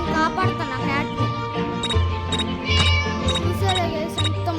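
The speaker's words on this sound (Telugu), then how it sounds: "Shut up, you silly cat!" Cat meowing in the Scary Teacher 3D mobile game, several repeated meows with faint jingles over steady game music, fairly close and loud.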